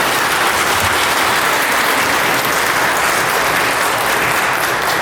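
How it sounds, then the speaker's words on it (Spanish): Wedding guests in a church give the newlyweds loud, sustained applause, a dense, uninterrupted roar of many people clapping close by for the full length. "fuertes aplausos para estos esposos"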